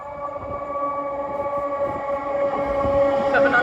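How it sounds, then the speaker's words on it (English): A Thameslink Class 700 electric train passes near Caledonian Road in London with a close, steady rumble and a strong whining motor tone that swells louder toward the end. "Another Thameslink Class 700."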